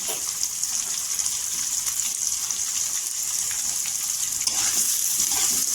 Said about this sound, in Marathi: इथे तेलावर परतून घ्यायचा टोमॅटो.